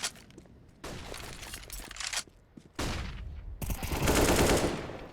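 Counter-Strike match on the Vertigo map in an ESL Challenger League game: several quick bursts of automatic rifle fire arrive in separate clusters, sharp and fairly close, with a dense rattling volley building toward the end.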